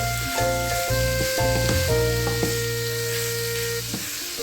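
Cabbage sizzles and fries steadily in a hot pan, a continuous close crackle with a few brief stirring scrapes and no talking.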